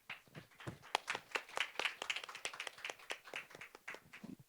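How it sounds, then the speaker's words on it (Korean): Audience clapping to welcome a lecturer to the stage at a venture investment roadshow, a quiet, steady patter of distinct hand claps from a modest crowd with no talking. "15분 동안 강연을 준비해 주신 박기용 대표님을 뜨거운 박수로 모셔보겠습니다"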